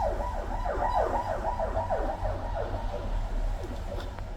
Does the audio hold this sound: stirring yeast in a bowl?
no